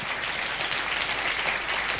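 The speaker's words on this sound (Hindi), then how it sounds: "इसके लिए जोर से ताली बजना चाहिए" A church congregation claps loudly and steadily, a dense continuous wash of applause from many hands without a break.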